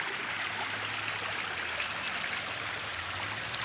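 Water spilling from a hillside spring and small waterfalls after heavy rain, a steady broadband rush that continues without a break and without voices.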